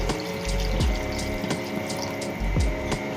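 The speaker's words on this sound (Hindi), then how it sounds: "मैं पानी डाल रही हूँ, तकरीबन 2 गिलास डाल रही हूँ मैं इसमें।" Water runs steadily into a metal pot of okra and mutton, about two glasses, a continuous splashing pour with a few brief clanks and knocks along the way.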